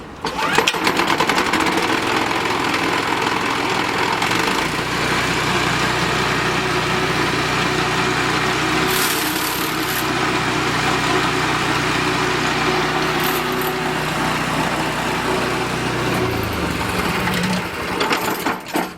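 A Honda petrol engine drives a walk-behind surface planer with a 250 mm working width, a loud, steady close engine drone with slight changes in load and no talking.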